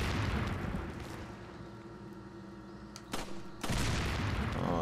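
Heavy gunfire from Resident Evil 4, a loud dense burst of blasts with rumbling low end, a brief dip, then another sharp report and renewed loud firing near the end.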